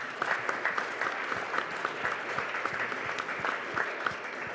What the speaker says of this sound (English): I do want to thank our panelists with a round of applause